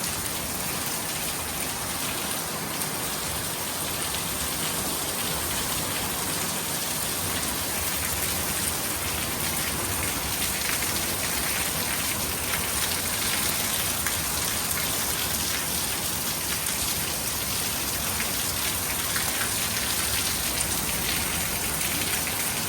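Steady rain pours down outdoors for the whole stretch, a dense, even hiss of drops pattering on surfaces nearby, loud and constant with no voices over it.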